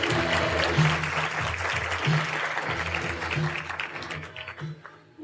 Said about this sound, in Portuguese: Recebemos o Dr. Milton com uma salva de palmas.